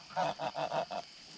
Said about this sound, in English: Majestic geese.